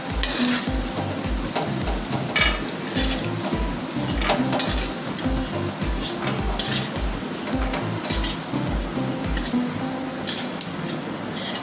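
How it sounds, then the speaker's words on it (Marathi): Onion frying in oil in a pot for a Maharashtrian maswadi rassa, a steady crackling sizzle with regular rhythmic scrapes of stirring, close and alone. "तर आता ही कांदा मी चांगला तेलात म्हणजे तळून घेतल्यासारखाच घ्यायचा आहे।"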